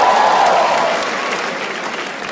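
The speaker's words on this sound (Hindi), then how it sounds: "एक बार जोरदार ताली बजा दो सबके लिए भाई," A comedy show audience breaks into loud applause, a dense wash of clapping and crowd noise close by, strongest at the start and easing slightly over two seconds, with a voice briefly heard at the beginning.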